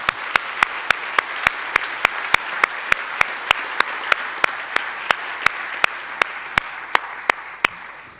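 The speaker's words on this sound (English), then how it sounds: "So we start with an applaud for the panelists." An audience at a climate policy panel event applauds the panelists with sustained, even crowd clapping. Sharp, regular clicks sound about every third of a second over the clapping from start to finish, and no one speaks.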